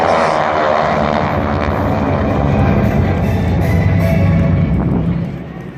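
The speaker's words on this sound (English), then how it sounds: "the Skytyper Delta belly pass" Six Skytyper aircraft fly a tight delta formation belly pass at an air show over MacDill Air Force Base in Tampa, their propeller engines a loud, steady droning roar that holds throughout before easing off at the end.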